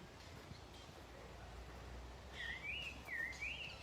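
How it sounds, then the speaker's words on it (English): A faint, thin bird call repeats a few times in a rising-falling warble over steady low outdoor rumble and hiss in Guatemala City. "Listen to the birds, pretty cool."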